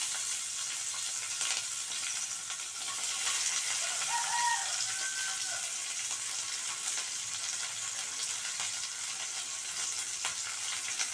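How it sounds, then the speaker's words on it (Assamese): Chopped onion and green chili fry in hot oil in a kadai used for frying fish, giving a steady, close, loud sizzle throughout with faint stirring and no talk. "এয়া তেল গৰম হৈছে, এতিয়া মই কাটি থোৱা পিঁয়াজ আৰু জলকীয়া ইয়াতে দি দিম"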